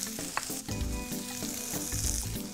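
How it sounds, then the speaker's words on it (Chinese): Onions sizzle and fry in rendered chicken fat in a pan while being stirred, a steady close crackle with occasional clinks of a utensil. "我们现在把洋葱也放进上面"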